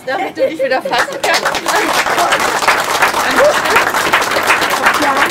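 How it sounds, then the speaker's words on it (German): Audience applause at the opening ceremony of a teddy bear and doll museum in Steinheim, dense clapping building up and filling the room steadily while a voice speaks briefly at the start. "jetzt machen wir einen Applaus"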